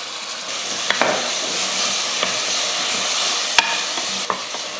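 Food sautéing in a pan, with a loud, steady close sizzle and a few faint clicks of a spoon against the pan, no talking.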